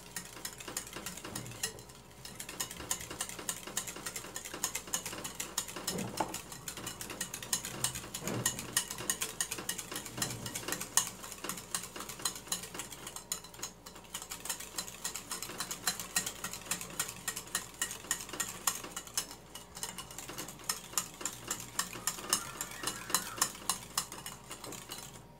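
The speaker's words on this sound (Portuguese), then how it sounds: "Você mistura muito bem para dissolver totalmente o suco." A creamy dessert mixture of Tang powdered juice being whisked hard in a bowl: a long, busy run of rapid clicking, rattling strokes that repeats steadily and close by, with brief pauses.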